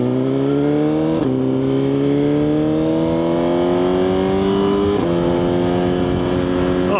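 A Suzuki GSX-R1000 motorcycle engine pulls hard and loud, its pitch climbing steadily, dropping abruptly at two gear changes and then rising again, with no voices present.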